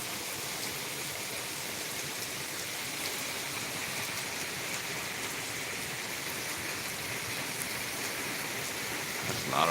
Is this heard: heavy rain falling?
yes